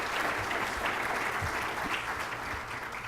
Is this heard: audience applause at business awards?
yes